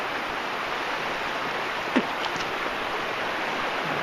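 Citico Creek flows below steep rock bluffs in a steady, soft, even rush, with a brief faint knock near the middle.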